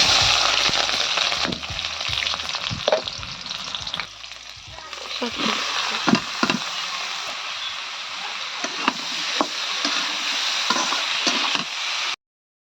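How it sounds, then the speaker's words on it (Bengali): Chopped onion and garlic fry loudly in a hot pan, a dense crackling sizzle with repeated scraping stirs throughout and a short dip in intensity partway through before the frying surges back. "এখন দিচ্ছি পেঁয়াজ আর রসুন কাটা"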